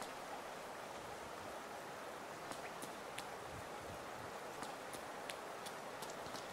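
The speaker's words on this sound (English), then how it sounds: "I love that sound. Makes me wish it would rain here." Steady rain in the game Hollow Knight hisses as a constant wash of noise, with occasional faint clicks and drips scattered over it, no voices.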